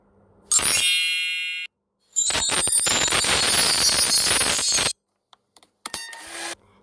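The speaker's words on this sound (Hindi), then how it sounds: "बटन का इफ़ेक्ट है" Button and other sound effects from the InShot video editing app play in quick succession: a bright metallic ringing tone, a long noisy rattling burst, a few small clicks, then a short chime. Nobody speaks.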